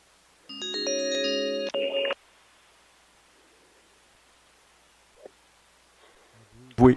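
Telephone ringing while calling testifiers at a hearing: a loud electronic ring tone plays for about a second and a half, then quiet line hiss with a faint click and a short burst of sound at the end.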